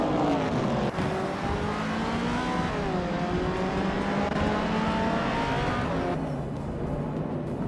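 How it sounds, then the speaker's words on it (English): Race cars, a 1967 Hillman among them, roar continuously at steady volume with engine tones rising and falling as cars rev and pass, no voices. "Kozainskost is racing a 1967 Hillman MPTIs"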